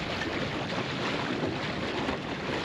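A sailboat tacks in open wind, a steady rush of wind noise and water washing along the hull, continuous and fairly faint with no voices.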